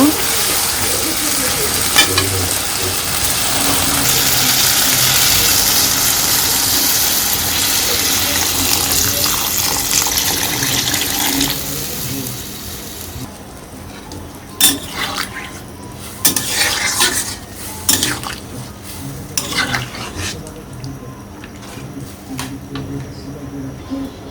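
Vegetable curry stirred in a pan, first a loud continuous sizzle, then a little water added and the frying quiets into intermittent scraping and stirring bursts, with a voice faintly in the background.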